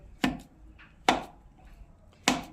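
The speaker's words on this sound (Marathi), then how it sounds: "चला तर आपण बटाट्याचे तुकडे करून घेऊया" Three sharp, close knife strikes cut potatoes into pieces, spaced about a second apart, each a crisp thud against the board with quiet pauses between.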